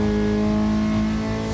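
Car engine at Oulton Park revving hard at high rpm inside the cabin, a dense, loud, continuous roar with a steady pitch and no talking.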